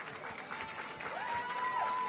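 Distant, faint applause and crowd noise rise in a large hall at Planet Hollywood Resort and Casino during a Miss Universe preliminary, a soft wash of clapping with a thin sustained tone over it.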